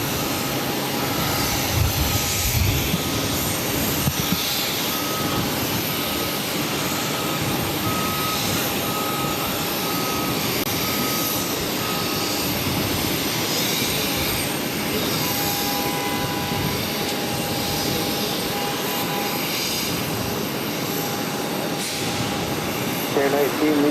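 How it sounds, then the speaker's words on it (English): Iberia Airbus A350-900 in special livery arriving on runway 22 at Boston Logan, a loud, steady jet roar held throughout with reversing beeps and other airport noise mixed in. "I got that special livery Iberia A350-900 up next for arrival on the 22s."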